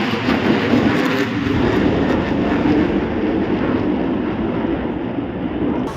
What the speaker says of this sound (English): Singapore military is exercising with helicopters and also some fighter jets earlier.